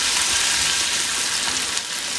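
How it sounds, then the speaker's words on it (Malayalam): Mustard seeds and green chillies sizzling in hot oil, a steady close hiss of frying that holds level throughout without pause or talk. "കടുക് വറുത്തിടുമ്പോൾ ശ്രദ്ധിക്കേണ്ടത് ഇതൊന്ന് കരിഞ്ഞു പോകാതെ വേണം വറുത്തിടാനായിട്ട്."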